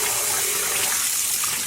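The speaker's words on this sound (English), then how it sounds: "I'm doing all this washing in just cool tap water, and again I'm adding a little soap" Cool tap water running steadily while dyed yarn is rinsed with a little soap, a continuous even hiss and splash with no voices.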